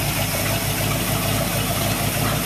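A 327F V8 engine idles steadily with a continuous low rumble and a faint knocking vibration, running alone at close range without any voices.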